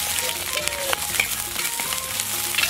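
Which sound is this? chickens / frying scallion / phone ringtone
frying scallion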